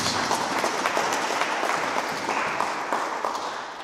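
A church congregation applauding, a dense, sustained wash of many hands clapping at once, loud and close, easing off slightly toward the end.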